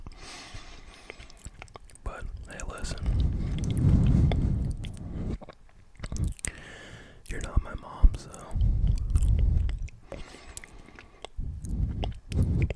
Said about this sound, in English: Your mom probably told you not to chew with your mouth open.